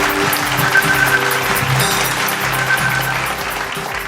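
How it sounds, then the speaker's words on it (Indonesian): Loud, sustained audience applause fills a stage event at Jakarta Future Festival 2025 as a speaker is welcomed, many hands clapping steadily over a faint background tone. "Kita berikan tepuk tangan untuk Pak Reynali."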